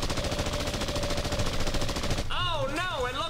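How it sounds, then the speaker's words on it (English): Rapid, continuous machine gun fire from an animated puppet show fills the first two seconds as a loud dense burst, then gives way to a wavering whistling sound effect. "it looks like the Mean Green Machine is shooting his machine gun!"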